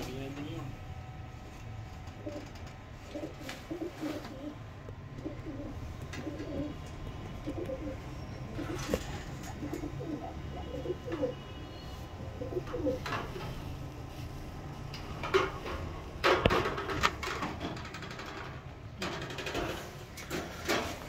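Soft pigeon coos repeat in a low murmur against a steady outdoor background, with people talking intermittently nearby.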